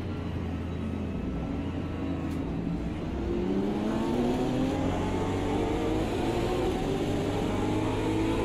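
Porsche cars lap the Nürburgring Nordschleife, engines droning and rising in pitch as they accelerate past, a steady loud rumble that swells midway without any talk.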